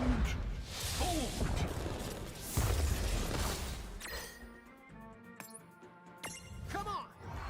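A Judgment Bolt lightning spell in the World of Final Fantasy video game, with crackling sweeps, crashes and mechanical clinks from the battle, sustained and fairly loud, followed by a quieter stretch of ringing tones and sharp hits.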